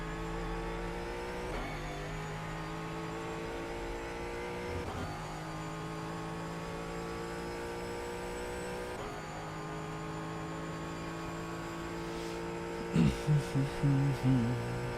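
A race car engine in the iRacing sim drones steadily throughout, its pitch swinging through several shifts and revs, with a brief cluster of sharp louder bursts near the end.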